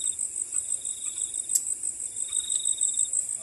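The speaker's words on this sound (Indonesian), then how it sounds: "Suara kodok, jangkrik guys." Crickets chirp in a steady high-pitched trill at night beside a bamboo grove near a public cemetery in Indonesia, continuous and fairly loud, with a few faint frog calls mixed in.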